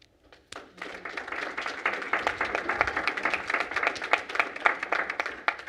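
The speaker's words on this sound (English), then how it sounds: "I would like our staff to help me join me in a round of applause for our district school board" Staff at a school district board meeting give the board a round of applause, a dense steady clapping that starts after a brief pause and continues throughout.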